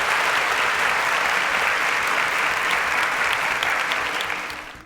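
An audience applauds a contestant named Abigail on a televised quiz competition, dense sustained clapping that holds strong and then tapers off at the end.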